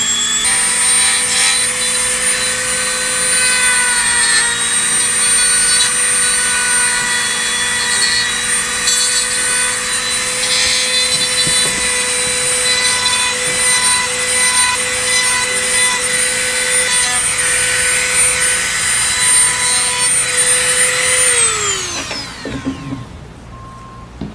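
Polishing machine buffing the edges of exotic leather 1911 grips, a loud steady motor whine with rubbing and scuffing as the leather is worked, then the motor spins down and stops near the end.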